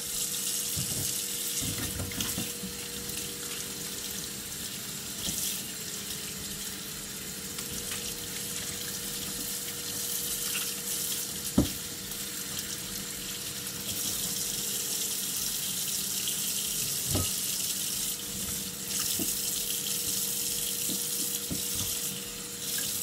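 Tap water runs steadily into a kitchen sink while celery is washed, a continuous splashing hiss with occasional clicks and knocks of handling throughout.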